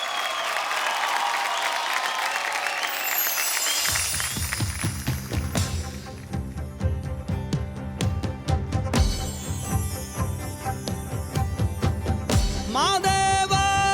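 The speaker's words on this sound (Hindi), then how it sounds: "भाई जोरदार ताली हो जाए" An audience at a folk singing reality show breaks into loud applause for about four seconds, a dense wash of clapping that gives way to instrumental music starting up.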